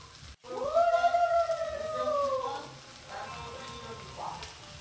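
Jute leaves frying in a pan with a little salt and turmeric, a soft steady sizzle running throughout beneath a voice, with a brief clatter near the start.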